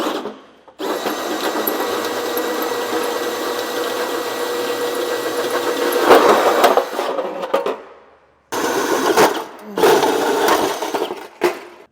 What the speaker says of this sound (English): We'll take our hole saw and just pop our hole in our heat shield.